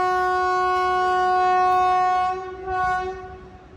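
An express train sounds a long, loud, steady horn while arriving at Kottikulam station, with rumbling rail noise underneath; the horn fades slightly near the end.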